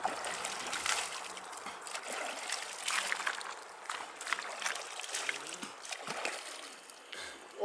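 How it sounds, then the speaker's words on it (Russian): The clear, fast Bystraya mountain river, a soft continuous babble and trickle of flowing water with small splashes, fairly faint and close, with no speech. "Купаемся в горной реке."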